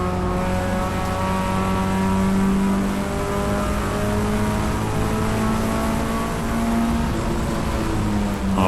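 A race car engine at the Road America circuit drones loudly and steadily at high revs, its pitch climbing gradually under throttle, close and continuous with no talk.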